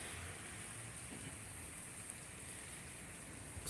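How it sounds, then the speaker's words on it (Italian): Heavy rain pours steadily during an approaching cyclone storm by the sea near cliffs in southern Italy, a dense, even hiss that holds without a break for the whole stretch, with no voices over it. "piove forte, poi si ferma"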